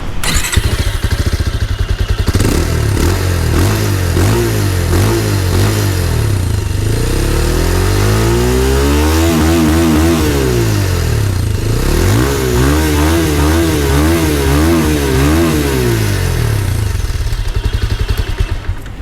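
A Bajaj Pulsar 220F BS6 motorcycle engine runs loud and close: a steady throbbing idle with mechanical clatter, then two swells of revving that rise and fall back, with no voices.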